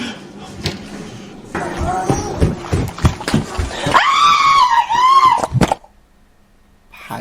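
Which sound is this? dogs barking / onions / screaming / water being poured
screaming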